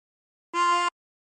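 A single short inhaled draw on hole 12 of a 24-hole tremolo harmonica rings out as one steady reedy note with a shimmering beat, clean and close, lasting under half a second.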